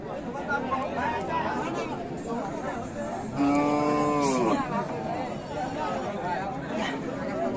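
A cow gives one clear, loud moo amid the chatter and bustle of a crowded cattle market, with people talking throughout.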